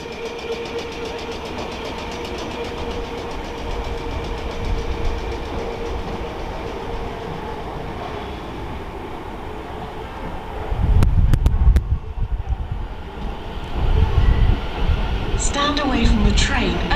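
Rush-hour trains at Norwood Junction station: a steady low rumble of a train at the platform runs throughout, with louder bursts of passing rail noise and clatter near the end, and a station announcement voice over the top.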